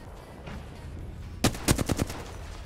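Rapid gunfire bursts in the shooter game Horizon: a quick string of five or six sharp shots after a quiet stretch, fairly close and loud against faint background noise.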